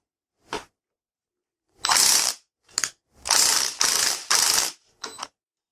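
A hand ratchet undoes 12mm bolts on a motorcycle head, with a short click burst followed by several fast, loud ratcheting runs of about half a second each, close up and separated by brief silences.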